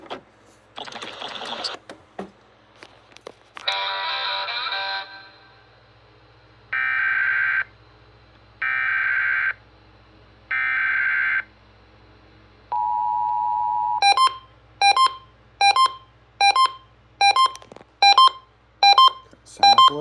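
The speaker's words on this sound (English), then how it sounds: "This is a practice demo activation of the emergency alert system used to test equipment for proper functionality." Emergency alert system tones from a Uniden BC370CRS scanner: a series of loud warbling digital data bursts separated by silences, then a steady single tone, then a run of sharp repeating beeps, with no voices.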